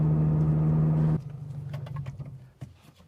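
Axle-back exhaust on a 2022+ Toyota GR86 / Subaru BRZ driving uphill near 2,000 RPM, a loud steady low drone that cuts off abruptly after about a second and leaves faint road noise and small knocks.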